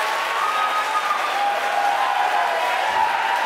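SpaceX team applauding and cheering at mission control after Starlink satellite deployment is confirmed, a steady wash of clapping from a sizable group heard throughout, moderately loud with a few whoops mixed in.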